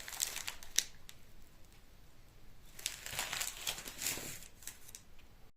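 A plastic bag of peanut candies being untied, giving faint, scattered crinkles and rustles in quiet bursts, with no talk over it.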